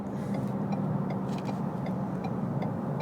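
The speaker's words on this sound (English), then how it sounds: "There was a downshift." A 2017 Ford Fusion Sport heard from inside the cabin on a highway ramp, its automatic transmission downshifting in drive amid a steady engine drone and road rumble, with no obvious distinct shift event.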